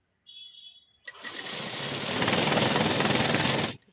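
A sewing machine runs a short, fast burst stitching a folded sleeve piece, a dense close rattling whir lasting about three seconds after a faint brief tone.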